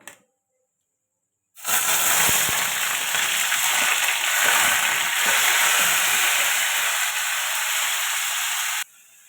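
Grated onion and tomato hit hot oil with whole garam masala, bursting into a loud, continuous sizzling hiss that holds steady for several seconds after a brief silence, then cuts off abruptly.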